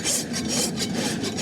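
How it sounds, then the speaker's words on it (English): A farrier rasps a horse's hoof to dress away the flares, giving steady close scraping strokes in a quick back-and-forth rhythm, with no voices. "just going to flare dress the foot and get the shape of the hoof that we like"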